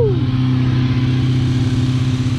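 A stunt motorcycle with a weak battery idles loudly and close, holding a steady high rev with a continuous buzzing drone.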